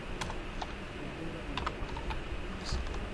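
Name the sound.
typing code on a computer keyboard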